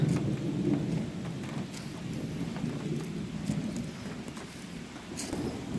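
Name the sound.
thunderstorm with rain at night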